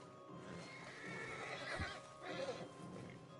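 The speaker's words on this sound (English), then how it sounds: "Javier, you're gonna lead the stallions." A stallion neighs loudly in Red Dead Redemption 2, a close, shrill whinny rising out of a rough outdoor background, with faint hoof clops around it.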